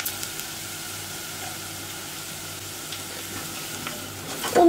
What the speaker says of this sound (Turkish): Onu 1-2 dakika şöyle kokusu çıkana kadar kavuracağım